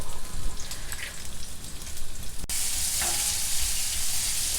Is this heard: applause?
no